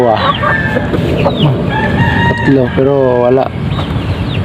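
Native chickens cluck and a rooster crows loudly and close by around a laying nest on a small farm, with someone talking over the birds.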